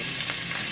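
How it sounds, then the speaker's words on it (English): A steady, close hiss of hot coconut oil sizzling in a pot, continuous and fairly loud throughout, with a brief brighter burst partway through. "some coconut oil in the pot already, and it's nice and hot. You know, you can see the sizzle going on."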